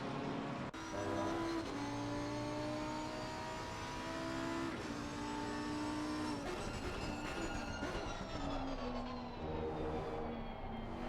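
A mid-engine V10 GT3 race car in the video game Assetto Corsa Competizione at Snetterton roars continuously, its engine pitch climbing through gears with sharp shift breaks, loud and sustained, with no talk over it.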